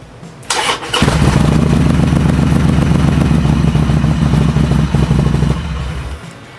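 A Harley-Davidson Sportster motorcycle engine starts after an oil change, with a brief starter crank before it catches into a loud, close, lumpy idle that runs steadily and then drops off.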